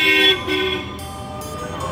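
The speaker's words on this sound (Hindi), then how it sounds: "पूरा रास्ता पूरा भीड़, पूरा ट्रैफिक और बहुत क्राउडेड है" Busy road traffic in a crowded Indian market street before Diwali, with a loud horn toot up close at the start, then more honking and a dense hum of vehicles.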